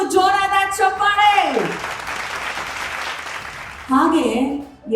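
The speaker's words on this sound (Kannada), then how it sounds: "ತೃಪ್ತಿಯವ್ರಿಗೊಂದು ಜೋರಾದ ಚಪ್ಪಾಳೆ" Audience applause at a talent award ceremony rises briefly between a host's spoken lines, a steady wash of clapping for a couple of seconds before the talk resumes.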